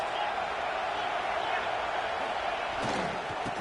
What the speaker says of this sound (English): This crowd trying to make it miserable for this offense.